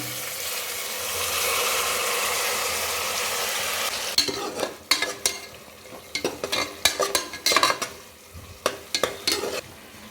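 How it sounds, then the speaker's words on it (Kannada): Ginger garlic paste fries in a pan with a steady sizzle, then a utensil stirs and scrapes against the pan in irregular bursts. "ಅದರ ಹಸಿ ವಾಸನೆ ಹೋಗೋವರೆಗೂ ನಾವು ಫ್ರೈ ಮಾಡಿಕೊಂಡು ಈಗ ಮಸಾಲ ಹಾಕೊಳ್ಳೋಣ"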